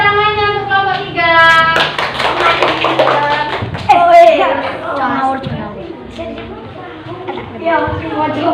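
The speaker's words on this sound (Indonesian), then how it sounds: "Kita beri tepuk tangan untuk kelompok 3." Students in a classroom clap for a group called up to the front, scattered hand claps mixed with a teacher's voice and children talking, loud and close.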